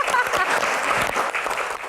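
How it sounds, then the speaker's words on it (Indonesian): Audience at a live talk show in Jakarta breaks into loud, steady applause, dense clapping filling the whole moment with a few voices mixed in. "Tepuk tangan dong buat Rano."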